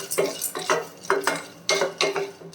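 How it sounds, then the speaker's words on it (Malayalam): Peanuts are dry roasted and stirred in a pan, giving brisk, rhythmic scraping and rattling strokes of a spoon against the metal, close and fairly loud, with a faint sizzle and no talk. "ഇപ്പോൾ കപ്പലണ്ടി വറുത്തതായിട്ട് പെട്ടെന്ന് തന്നെ വറുത്ത് കിട്ടി"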